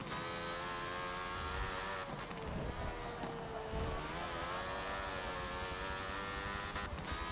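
A 1976 Ferrari F1 car engine in a racing video game at Laguna Seca drones loudly and continuously, its pitch wavering slightly as the revs shift up and down.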